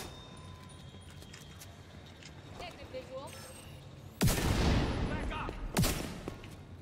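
Shotgun fire in The Division 2, two loud close blasts with a crashing tail, the second following about a second and a half after the first, over a quiet background of game ambience.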